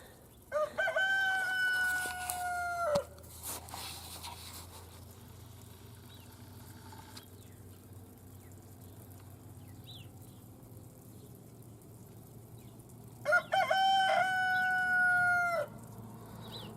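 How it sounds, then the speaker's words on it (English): Rooster crowing in the afternoon: two loud crows, one at the start and another near the end, separated by a long stretch of faint low engine hum. "that rooster, I don't know what time it's getting to be, 3:30, maybe almost 4. Why is it crowing in the middle of the day?"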